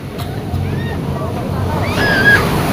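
Sea waves washing onto a Philippine shore, a loud, close, steady rushing surf with wind buffeting the microphone, while people's voices and shouts carry faintly over the water.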